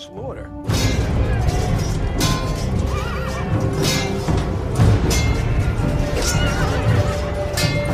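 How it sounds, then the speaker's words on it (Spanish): A horse whinnies loudly in pain amid the chaotic clatter, crashes and thuds of an ancient battle, with voices mixed in. "el relincho de dolor de un caballo"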